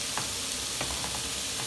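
Seasoned Swedish blood pudding slices fry in a pan with a dense, steady sizzle, broken by a few faint crackles and pops; no voices are heard.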